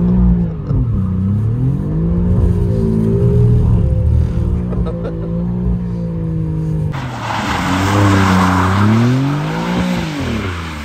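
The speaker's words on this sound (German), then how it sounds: "Drift Action." A current Alfa Romeo Giulia drifting, its engine loud and close as it revs up and down in smooth sweeping pitch changes, with a burst of tire squeal and hiss joining partway through.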